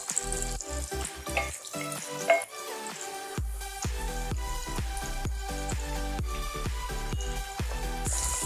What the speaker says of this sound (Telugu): బెండకాయల మొత్తం అన్నిటికీ ఆయిల్ బాగా పట్టేటట్టు మరీ వేగకూడదండి